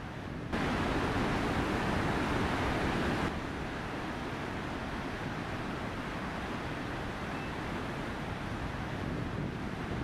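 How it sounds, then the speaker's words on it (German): Rushing water of the Rio Baker in Chile roars through rapids and waterfalls as a steady, dense, broadband wash, loud at first and then slightly softer but unbroken, with no voices. "Man kann sehen, wie die Wassermassen in Stromschnellen tanzen und in gewaltigen Wasserfällen Richtung Meer fließen."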